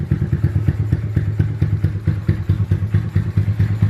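A Honda Grom motorcycle fitted with a Sucker Punch cam idles up close, its loud engine thumping in a choppy, uneven rhythm.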